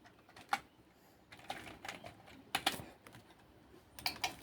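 Keys tapped on a computer keyboard while typing a channel name, a few quiet irregular clicks in short clusters with gaps between, faint and close.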